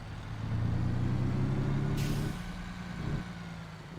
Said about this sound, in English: So truck here sounds a little rough.